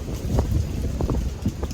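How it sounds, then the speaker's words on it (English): Gusty wind blowing outdoors on a windy day, a steady low rumble of wind buffeting the microphone with a few brief knocks, no talking. "geez, the wind."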